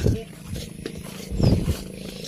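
A carabao (water buffalo) calling with low, roaring bellows, one at the start and a louder one near the end, with people talking close by.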